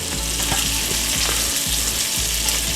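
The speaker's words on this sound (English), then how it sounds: "As you can see, our meatballs are starting to brown now." Swedish meatballs fry in a hot pan with a steady, loud sizzle. Occasional soft scrapes and stirs sound through it.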